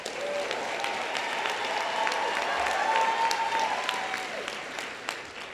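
A banquet audience applauds steadily for several seconds, a dense, even wash of many hands with scattered sharper claps, swelling slightly before tapering off.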